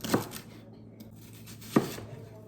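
Celery being chopped with a knife on a board, two sharp, separate cuts spaced well apart, close and crisp, with quiet kitchen room sound between them.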